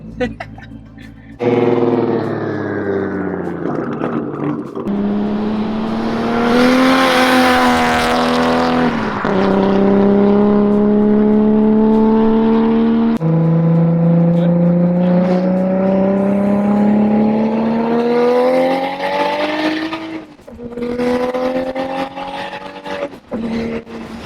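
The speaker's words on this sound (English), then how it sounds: "We're in a Supra and the top's off, so it's good." Riding inside an 800hp Toyota Supra with the top off, the engine loud and close as it pulls hard through several gears, each rising whine dropping at the shift, with wind noise and brief voices between pulls.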